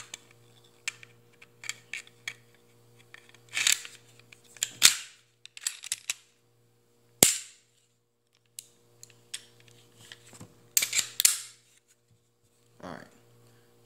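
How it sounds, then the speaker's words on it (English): A Smith & Wesson M&P Shield 9/40 pistol being reassembled with a Clipdraw clip fitted: close, sharp metallic clicks and snaps scattered irregularly, separated by quiet pauses. "We're going to reassemble our pistol."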